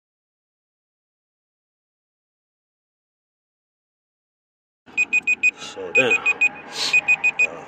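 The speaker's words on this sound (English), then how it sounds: "alarm going off, things of that nature" An alarm goes off outside a gym, repeated bursts of high electronic beeping in steady rhythm that start abruptly after silence, with someone talking over them.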